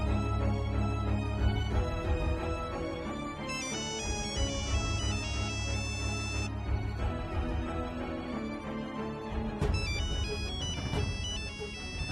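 A phone ringtone plays continuously as a melodic electronic tune, loud and steady for several seconds with no voices over it.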